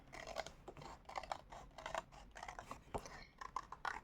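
Scissors snip around a paper circle for a watermelon-slice craft, with a string of quiet, close, irregular cuts and rustles and no voices.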